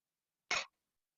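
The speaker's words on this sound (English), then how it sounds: "I'm just going to cough." A single short cough from a person, one sharp burst standing alone in otherwise quiet surroundings.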